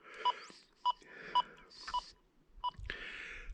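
XP Deus 2 metal detector on its beach sensitive program sounding a series of short electronic beeps over a log, about five evenly spaced tones, close and clear with faint rustling between them.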